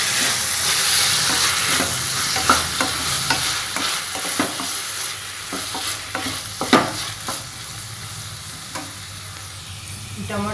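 Tomatoes tipped into a pan of frying cashews and onions, a loud, continuous sizzle with steady stirring scrapes and knocks of a spatula against the pan throughout.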